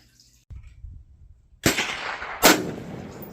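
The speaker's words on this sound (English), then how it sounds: "But right here's my first shot, and here's the piece of debris that I'm aiming at." A rifle fired at a piece of debris outdoors gives a sharp, loud crack, then a second heavy bang follows under a minute later, each trailing into a rumbling decay.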